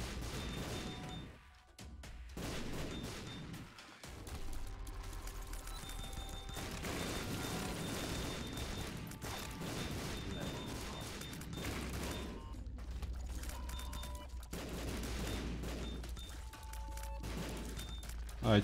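Bombs burst repeatedly in a modded video game run, a dense, continuous wash of crackling blasts and crashes at moderate level with brief lulls, no talk.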